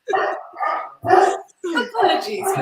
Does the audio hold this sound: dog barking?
yes